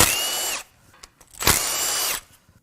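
Power tool working on the VANOS solenoid of a BMW N54 twin-turbo engine in a 335i, two loud high whirring bursts separated by a short pause with small clicks.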